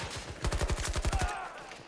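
Rapid hip-fired bursts from the PP submachine gun in Battlefield on Arica Harbour, roughly a dozen sharp shots in a fast even rhythm, loud and close, tailing off into quieter background noise.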